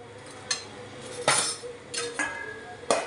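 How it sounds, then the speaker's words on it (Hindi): Metal lid set onto a cooking pot of vegetables with ghee in a home kitchen, a few bright clinks and clanks spaced unevenly, close and moderately loud in a quiet room. "अब इसमें मैं ढक्कन रखेगी"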